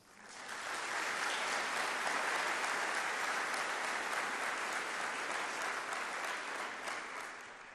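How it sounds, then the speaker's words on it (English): Audience applause at a foundation awards event honoring hometown heroes, a broad steady wash of clapping swelling in quickly, sustained for several seconds and fading slightly at the end. "So a round of applause for the young ones."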